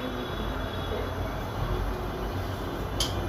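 A train rumbles past as a steady low roar with a constant hiss, moderately close and unbroken, with a brief higher squeal near the end.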